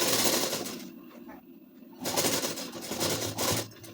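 A sewing machine runs while stitching lace onto a ladies' suit, its steady mechanical whir loud and close, pausing briefly before starting again.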